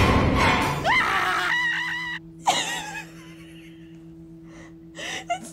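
Cartoon character Eggman screaming in fright at a doll: sharp gasps and a high wailing scream, then quieter whimpering cries over a steady hum, close and loud.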